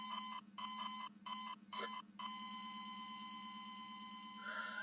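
Stacked chopping-counter noise from the video game Grounded forms a droning klaxon-like electronic tone, pulsing in short bursts at first, then holding a continuous blaring hum.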